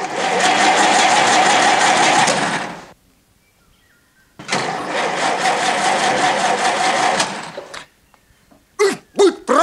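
A car engine runs loudly for a few seconds, cuts out, then revs again before stopping; a few sharp clunks follow at the end.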